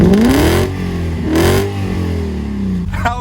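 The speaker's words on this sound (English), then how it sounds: "there is one thing that works incredibly well in this car, and that is its 3-liter V8 engine" A big BMW 7 Series 3-liter V8 engine revs hard twice, rising and falling in pitch, then settles into a deep idle before a short final blip.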